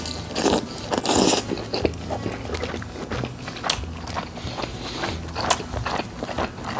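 Someone eats a microwaved 7-Eleven wagyu beef bento up close, with repeated crisp bites and moist chewing that come in uneven bursts with short pauses between.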